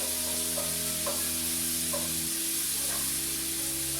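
Flour-dusted chicken pieces fry in a pan with a soft, continuous sizzle, joined by a few faint stirring scrapes, quiet and steady throughout.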